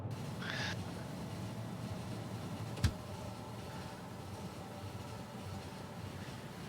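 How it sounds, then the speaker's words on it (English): Trains run across a Factorio base in a steady, low mechanical rumble with one sharp click partway through, heard alone without talk. "It's nice to see all the trains running and not deadlocking themselves yet."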